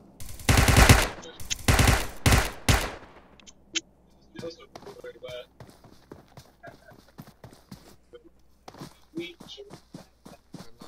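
Rapid machine gun fire in a first-person shooter video game, loud dense bursts at first, then quieter scattered shots and clatter over a background of game noise.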